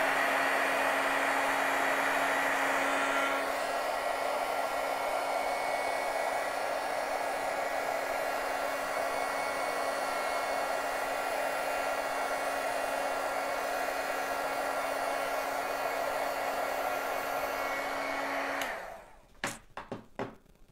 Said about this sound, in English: I'm just going to set that with my heat tool